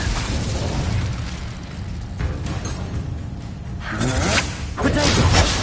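A fire spell cast in the Harry Potter game Hogwarts Legacy bursts out as a loud whooshing blast that swells near the end, mixed with game effects and a voice.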